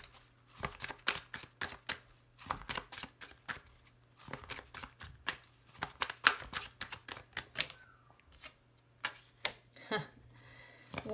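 A deck of playing cards being cut and handled on a table, a run of sharp irregular snaps and riffles, close and fairly quiet, with a faint steady hum underneath.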